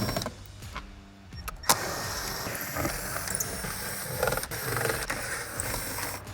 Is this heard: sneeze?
no